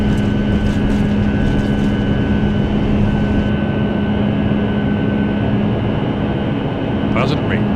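An airliner takes off in the Microsoft Flight Simulator 10 game, its jet engines producing a steady, even roar that holds throughout, with a faint chirp near the end.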